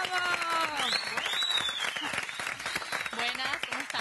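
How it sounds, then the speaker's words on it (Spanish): Studio audience applauding to welcome a new TV host, a brisk burst of clapping heard under a host's excited talk throughout. "recibimos con un fuerte aplauso a la nueva animadora de Sexo al Desnudo, Daniela Franco"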